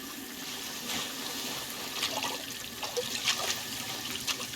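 Water running steadily in the video game The Suicide of Rachel Foster during a washing scene, a continuous hissing, splashing stream with small irregular spatters, moderately quiet and without speech.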